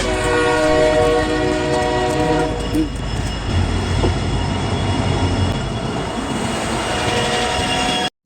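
A train rumbles in loudly and close, its horn blaring over the heavy rolling clatter of wheels on the tracks.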